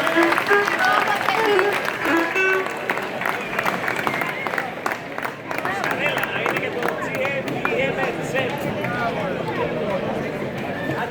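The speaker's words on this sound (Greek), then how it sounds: "Παρακαλώ πολύ ένα θερμό χειροκρότημα στο Θέμη Ιακωβίδη." A crowd at an outdoor village cultural association event in Kato Poroia applauds steadily and loudly, with voices and cheers mixed into the clapping throughout.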